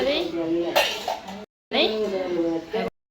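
Kitchen utensils and metal dishes clink and clatter in a home, mixed with a voice talking, in two bursts separated by abrupt silences.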